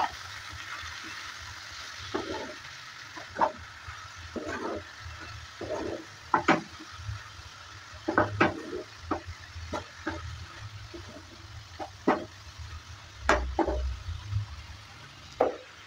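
Bathua greens and potatoes stirred in a pan give quiet, scattered scrapes and soft clatters over a faint steady sizzle, with no talking.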